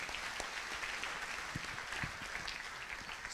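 A church congregation clapping together: a dense, fairly quiet wash of many hands, steady and without pause, with some individual claps audible in the mix.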